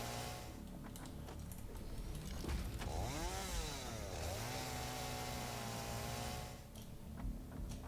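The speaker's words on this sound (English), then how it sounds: "Good old fix-it chainsaw." A video-game chainsaw in Satisfactory drones steadily and then revs sharply up and back down once in the middle, close and continuous against a busy background of factory machinery.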